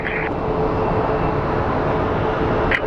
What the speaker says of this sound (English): So up next we have a A321 headed to Cabo.